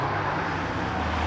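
A Porsche 996 GT3 race car pulls away from the start line at a hillclimb at Prescott, a loud continuous engine drone heard briefly and close.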